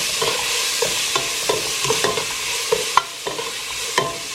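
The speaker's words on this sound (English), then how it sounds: "So we've added our onion and we're just going to saute this." White onion sautés in a hot pan for lentil soup, giving a steady close sizzle broken by irregular scrapes and knocks of a stirring utensil, with no voices.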